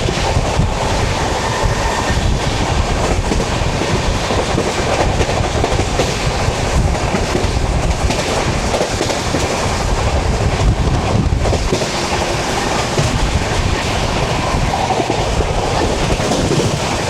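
Sleeper class passenger train on the Delhi–Amritsar route running at speed past a station yard, with a steady loud rumble of wheels and a continuous clickety-clack on the rails, plus some wind buffeting throughout.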